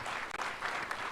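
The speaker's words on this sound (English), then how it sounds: "Piga makofi mazuri." An audience applauds at a strategic plan launch event in Kenya, a brief steady wash of clapping from a crowd.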